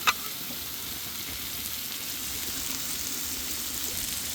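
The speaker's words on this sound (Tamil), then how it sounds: "கடைசியாக மீன் சேர்த்தோம் இந்த கறிலாம் சேர்க்குற மாதிரி ஒரு அட்டகாசமாக அப்படியே வறுத்து எடுக்கிறோம்" Fish fries in a stone-ground masala for a Kerala-style fish fry, a continuous soft hiss and sizzle from the pan held at an even, fairly quiet level after a brief knock at the start.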